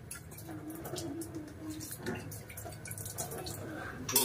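Ice cream moulds being rinsed under running water, with soft trickling, splashing and dripping at close range, fairly quiet and continuous, with occasional light clatter.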